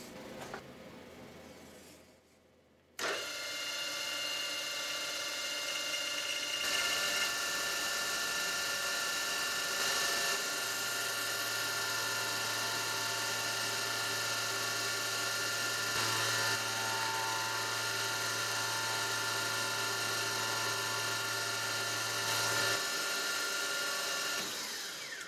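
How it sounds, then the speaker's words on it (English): A two-flute carbide end mill plunges full depth on a milling machine spindle running at 1600 RPM, giving a steady loud machining whine with a low hum that begins after a brief quiet start. "we're just going to plunge down and take a full depth cut at 1600 RPM"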